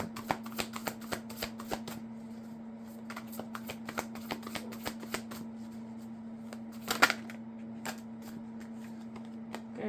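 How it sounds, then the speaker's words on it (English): Cards from a spiritual animal oracle deck are shuffled and pulled, a quick run of crisp, close riffling flicks and taps with a brief louder flurry midway, over a faint steady hum. "let me pull a card, my animal oracle, spiritual animal oracle for them both"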